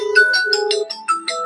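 A mobile phone ringtone plays a bright, melodic electronic tune of quick repeated notes, loud and close, with no talking over it.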